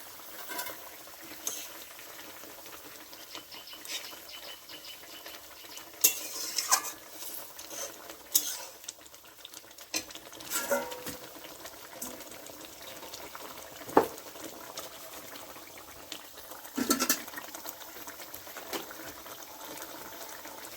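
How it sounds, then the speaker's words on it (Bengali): Pabda fish slip one at a time into simmering mustard gravy, making soft wet plops over a faint, steady bubbling, quiet and close with a few distinct splashes spaced apart. "তো দেখুন এগুলোর মধ্যে একটা একটা করে মাছগুলোকে ছেড়ে দেওয়া হচ্ছে।"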